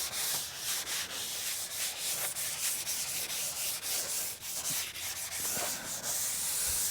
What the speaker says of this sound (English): Doing little hand sanding, scuffing the whole surface.